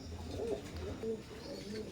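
Teddy pigeons of an imported Omani bloodline cooing softly and repeatedly in a low, murmuring rhythm, faint and steady against a hum of background noise.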